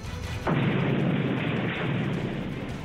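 A bomb blast hits suddenly after a quiet moment at a shopping mall, followed by a sustained roaring rumble that slowly eases off.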